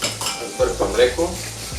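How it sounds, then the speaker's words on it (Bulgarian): A utensil stirring a carbonara sauce of one whole egg and a yolk in a bowl, with soft clinks and scraping strokes in an irregular rhythm, close and fairly loud, as bacon and pasta sizzle faintly nearby. "Разбърквам леко"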